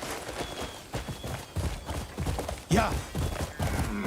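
Horse hooves pounding at a gallop in the video game Crimson Desert, a steady rapid thudding rhythm with a brief rising whinny-like cry midway and a short spoken word.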